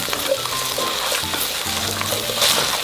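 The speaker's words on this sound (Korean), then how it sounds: "기름을 한 스푼 정도 두르고요. 물에 건져 씻어놓은 건져놓은 감자를 넣어서 먼저 볶아주세요." Rinsed potatoes stir-frying in a spoonful of oil, a dense, continuous close sizzle with soft stirring noises.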